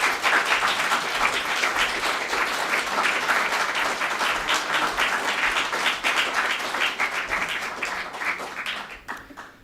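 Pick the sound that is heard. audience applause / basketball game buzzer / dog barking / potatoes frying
audience applause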